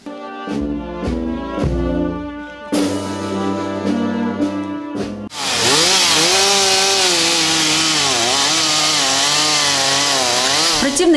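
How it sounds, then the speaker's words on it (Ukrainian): A chainsaw revs in short bursts, then bites into the trunk of a willow felled by a windstorm, cutting with a loud, continuous, wavering whine that rises and dips as the load changes. "ріже стовбур верби поваленої 28 жовтня буревієм"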